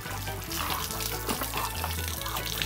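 Water splashing and pouring while horses headed for a barrel racing competition are bathed in Panama, a steady close wash with a low rumble underneath and no clear talk.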